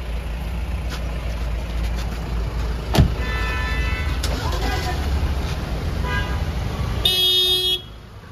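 Car horns toot briefly in busy street traffic at an airport while vehicles roll past, a steady rumble with short honks scattered through and a louder horn blast near the end, with people talking over it.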